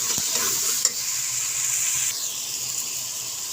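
Cumin seeds sizzling in a hot pan as they are spread out, a loud bright continuous hiss with a brief clink, easing slightly toward the end.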